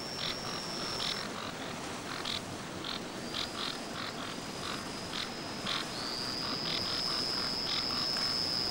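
Frogs croak in chorus in a forest, many overlapping rhythmic calls pulsing steadily over a dense hiss of insects, with a high whistling tone running through.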